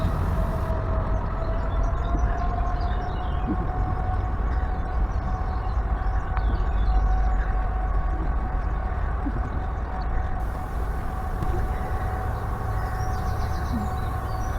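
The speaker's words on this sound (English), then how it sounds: "you can hear all of the sounds of the railway line that sits just behind you" A continuous low rumble with a faint steady hum drones in the distance, a train rolling along a railway line behind the Hardy Tree in Camden, London, with no talking.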